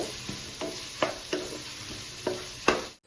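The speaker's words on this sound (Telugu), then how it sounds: "ఆనియన్స్ బ్రౌన్ కలర్ వచ్చే వరకు ఫ్రై చేద్దాం ఫ్రెండ్స్." Onions frying in a pan for mutton liver fry, with a steady soft sizzle under repeated sharp scrapes of a spoon stirring, about six strokes spaced through the stretch, close and moderately loud, no voices.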